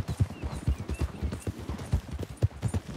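Rapid, rhythmic hoofbeats of a horse galloping in the video game Red Dead Redemption II, steady and fairly close, with no voices.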